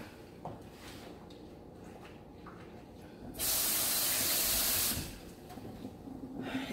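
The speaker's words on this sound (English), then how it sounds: "let me rinse my hands one more time." Hands are rinsed under a running kitchen tap while raw chicken thighs are being prepared. A brief, loud, steady rush of water lasts about a second and a half amid quieter kitchen handling noise.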